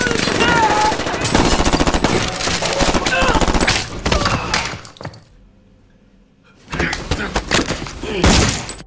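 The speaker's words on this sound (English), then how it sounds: "swiftly takes down the leader with a gunshot" Gunfire from a Punisher action movie: loud rapid automatic bursts and sharp shots pile up, then drop to near silence for a moment before another volley of shots.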